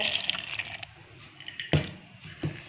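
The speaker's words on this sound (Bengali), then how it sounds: "এবার এই একই পাত্রের মধ্যে যে আমি ডালটা ভিজিয়ে রেখেছি ডালটা দিয়ে দেব" Soaked lentils tipped with their water into a pot for a pointed gourd dhoka recipe: a short run of splashy pouring and sloshing, then two distinct wet plops as the lentils land, close and moderately loud.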